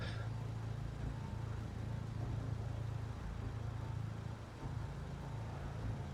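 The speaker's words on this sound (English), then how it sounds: "The car is loud." A car engine in the zombie survival video game Project Zomboid runs as a steady, faint low hum that holds evenly throughout, with no talk over it.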